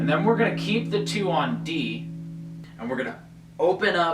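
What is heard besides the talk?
No everyday noises stand out.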